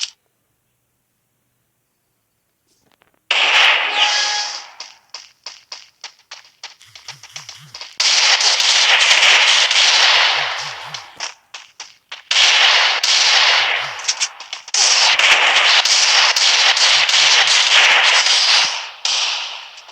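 After a brief silence, rapid volleys of loud, crisp video game gunfire erupt in long bursts, separated by short pauses and a few quick single shots.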